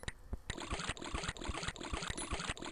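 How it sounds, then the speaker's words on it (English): Water flowing in the Chip's Challenge video game, a quiet trickling, pouring stream with soft regular pulses repeating throughout. "right now all I'm hearing is water going"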